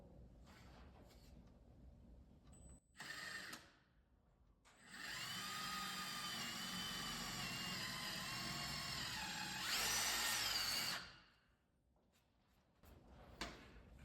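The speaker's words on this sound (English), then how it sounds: "So I'm going to go ahead and drill a pilot hole." A power drill whirs steadily for several seconds drilling a pilot hole in a MasterCraft Prostar 190 boat, rising in pitch near the end, with short bursts of tool noise before and after.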